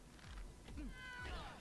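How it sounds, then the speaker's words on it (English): A cartoonish cat meows in LEGO Marvel Super Heroes 2, two or three short, fairly quiet mews with rising and falling pitch over a low game background hum. "Pet the kitty."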